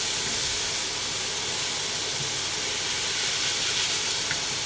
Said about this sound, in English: you're going to want to brown this mince